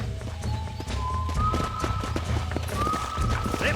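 Horse hooves clip-clop steadily in Red Dead Redemption on Xbox 360 and PS3, with a brief high whinny or whistle-like tone riding over the loud, continuous galloping rhythm.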